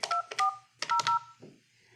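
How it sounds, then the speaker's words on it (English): Number keys pressed on a Yealink T54w desk phone, a quick sequence of DTMF tones, several short beeps in irregular pairs with a softer tap at the end, close and clear with no talking. "All you have to do to call someone is dial their phone number."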